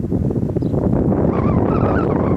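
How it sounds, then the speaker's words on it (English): Strong wind buffets an outdoor microphone at a football kicking session on a field, a steady loud low rumble running continuously throughout with no voices. "Oh, good gust of wind right there."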